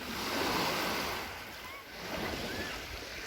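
Sea waves wash onto a beach at the Sanzhiika seaside resort on a summer evening, a steady, close, broad surf rush that swells and eases with wind buffeting the microphone.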